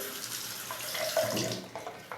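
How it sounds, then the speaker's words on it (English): A shaving razor rinsed under a running bathroom tap, a short steady rush of water with splashes and gurgles as the blade passes through the stream, close by and with nobody talking. "then you rinse that off in water"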